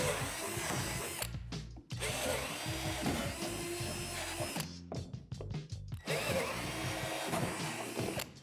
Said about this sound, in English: locate these 3 divots and drill them out with a 3/8 drill bit